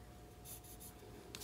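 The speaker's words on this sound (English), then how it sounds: "So I'm just gonna take a pencil" A pencil marks cardstock for a Christmas tree card, giving a few short, soft scratchy strokes close by, faint and alone, before a brief louder tap at the end.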